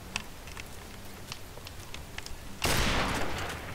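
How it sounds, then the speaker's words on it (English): Gunfire in Modern Warfare Remastered during a one-on-one match: a series of sharp, evenly spaced shots cracks through the first seconds, then a louder, continuous burst of fire swells near the end. "I think you went a little bit overboard on how many bullets you shot right there"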